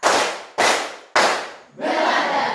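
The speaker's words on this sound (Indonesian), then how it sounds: "Tepuk 1. Tepuk 2. Tepuk 3." A class claps in a rhythmic pattern: three sharp bursts of applause-like clapping, each swelling and fading, followed by a longer sustained round of clapping from the group.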